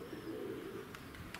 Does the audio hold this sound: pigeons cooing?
yes